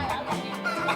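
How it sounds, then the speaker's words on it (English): Chickens cluck softly in a classroom, a brief run of quick, faint clucks over low background noise. "these birds came in and circled the front clucking normally"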